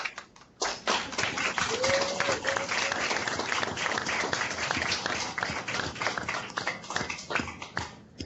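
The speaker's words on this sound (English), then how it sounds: "join me in giving a warm round of applause to Pro Football Hall of Famer Rod Woodson" Applause from participants in online groups for Pro Football Hall of Famer Rod Woodson, a steady patter of many claps with mixed tapping, moderately loud and continuous after a brief lull at the start.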